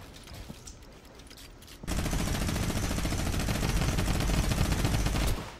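Rapid automatic gunfire erupts in a shooter video game as the player fires on an enemy, a loud sustained burst of dense, rattling shots starting abruptly after quieter background noise and stopping near the end.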